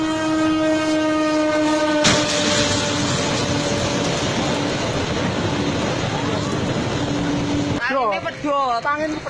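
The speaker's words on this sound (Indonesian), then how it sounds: "Tabrakan kereta api." A train colliding with a truck at a crossing in Lampung: a sustained train horn gives way abruptly to a loud, rough rumbling roar lasting several seconds, then a voice speaks at the end.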